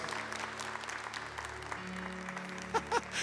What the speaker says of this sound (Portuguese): Vamos aplaudir os nossos avós.